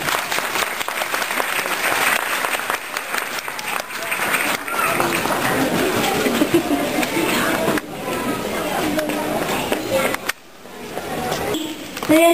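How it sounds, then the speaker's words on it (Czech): Sustained applause from a kindergarten audience after a children's performance, steady and dense for about ten seconds, briefly dipping near the end before picking up again, with some voices mixed in. "Potlesk pro ně."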